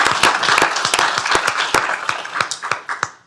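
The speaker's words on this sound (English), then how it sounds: "so let's give Juan a big round of applause." A small group in a county commissioners court gives an employee a short round of applause, with sharp, distinct claps at close range that thin out and fade over a few seconds.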